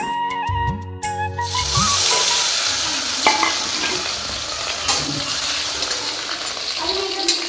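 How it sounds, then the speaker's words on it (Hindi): Washed vegetables drop into hot oil in a kadhai on a gas stove and fry with a loud, steady, close sizzle and occasional stirring clicks, after a brief tonal sound at the start. "तो अच्छे से धुल के इनको तेल में फ्राई करेंगे"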